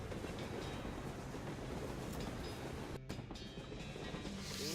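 A train running in the West of Loathing video game, a quiet steady rumble of wheels on rails that continues evenly. A brief dropout breaks it near the end, then faint higher sounds follow. No one speaks.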